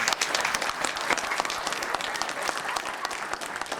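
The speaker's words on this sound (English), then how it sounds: "Let's have a round of applause for them." An audience at a stage show applauds people who stand up onstage, with continuous, dense, moderately loud clapping that holds steady from start to finish.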